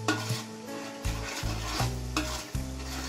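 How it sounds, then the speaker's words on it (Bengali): Chicken biryani masala with milk and chicken cubes being stirred in a pot, with scraping strokes at a steady rhythm over a constant close sizzle and low background hum. "আবারও সবকিছু ভালো করে মিক্স করে নিচ্ছি।"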